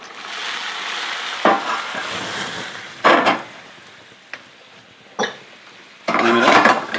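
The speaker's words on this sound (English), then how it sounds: "Flame it up. Stir it around." Banana flambéed with Bacardi in a pan on the stove: a quiet sizzle broken by several sharp bursts of hissing flare-up and the clatter of stirring, close and fairly loud.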